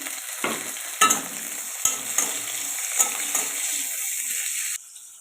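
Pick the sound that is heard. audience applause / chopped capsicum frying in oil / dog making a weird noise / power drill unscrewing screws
chopped capsicum frying in oil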